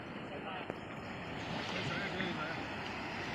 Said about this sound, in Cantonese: 哇，個浪嚟得幾高，幾正！